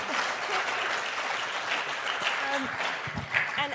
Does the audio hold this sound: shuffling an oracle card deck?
no